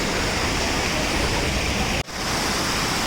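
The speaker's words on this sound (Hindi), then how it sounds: "इन गधेरों से जो पानी निकल रहा है" Water rushing down a mountain gully stream in a disaster-hit area of Chamoli, a loud, constant broadband roar with a brief dip near the end, no talk.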